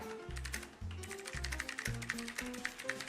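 Rapid keyboard typing clatters in a fast, continuous stream of clicks during a typing competition, heard close up alongside rhythmic background music with a low beat.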